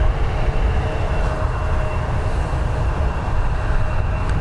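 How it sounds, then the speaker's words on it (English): KLM Embraer E175 airliner taking off for Amsterdam, a broad steady jet roar at fairly close range that stays loud and continuous throughout. "KL 938 and Embraer E75 off to Amsterdam"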